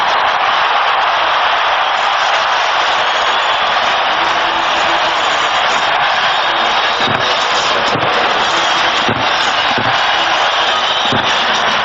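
A stadium crowd roars steadily for a Kansas City Chiefs touchdown against the Denver Broncos in a 1998 NFL game, a dense, loud wash of cheering that holds for the full length with a few sharp thumps cutting through.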